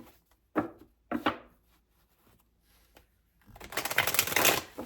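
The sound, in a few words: tarot cards being shuffled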